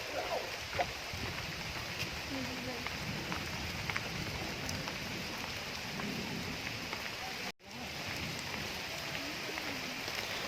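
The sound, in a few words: rain falling near a lake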